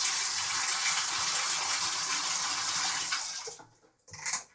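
Water gushes steadily from a tap into a tub for washing a latex suit, a loud broad hiss that cuts off near the end, followed by a brief splash.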